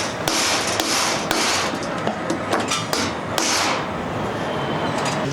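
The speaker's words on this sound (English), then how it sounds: "we just lay it in crosses on top of the trusses, nail it off with some clouts" Steady rapid hammer blows drive clouts into timber bracing laid across roof trusses on an Australian house build, a close, loud, continuous run of sharp strikes with no talking.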